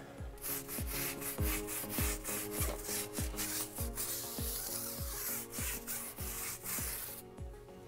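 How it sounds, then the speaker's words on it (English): A hard-bristled tire brush scrubs a foamy, dirty tire in steady back-and-forth strokes, a loud repeated rhythmic scraping of roughly a dozen strokes with no talking. "We'll start scrubbing."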